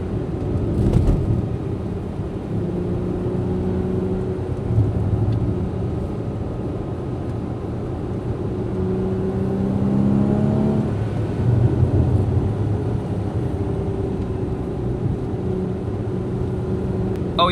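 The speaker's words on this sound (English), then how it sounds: "The engine is so loud too." Heard from inside while driving, a Porsche 981 Boxster S with a six-speed manual pulls through the gears, its engine droning and rising in pitch with several revving climbs and shifts over steady road rumble.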